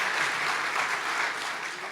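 A church congregation applauding Jesus during a worship service, a steady wash of many hands clapping together at moderate distance, continuous and even throughout with no voices above it.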